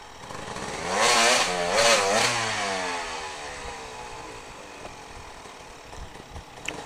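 Dirt bike with a broken rear brake in a Hawaii rock garden: the engine revs up loudly twice in quick succession, then fades to a distant drone among faint scattered knocks.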